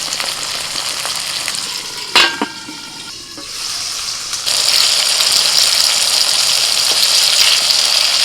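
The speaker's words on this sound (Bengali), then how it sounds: "এবার কয়েক কোয়া রসুন দিয়ে দিচ্ছি" Garlic cloves and tomatoes fry in mustard oil, giving a continuous loud sizzle with a brief clatter near the start. The hiss swells louder partway through and then holds steady, with no voices.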